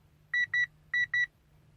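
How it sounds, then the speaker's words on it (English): A Mitsubishi Outlander PHEV dashboard gives four electronic beeps in two quick pairs as an icy-road warning, a short pause between the pairs, over a low steady hum; clear, close and fairly quiet. "it beeps at me, telling me possibly icy roads"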